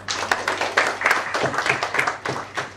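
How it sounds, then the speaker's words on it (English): An audience at a banking quiz semi-final claps for a contestant, a steady patter of many hands at moderate loudness, with a faint voice underneath. "let's clap for her once again"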